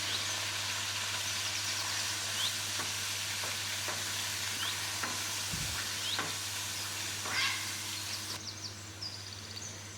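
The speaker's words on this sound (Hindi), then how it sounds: "कीमे को हम भूनेंगे, कीमे का रंग बदलने तक" Minced meat being fried with spices in ghee gives a soft, steady sizzle, broken by occasional stirring scrapes and light clinks, heard faintly with no talking.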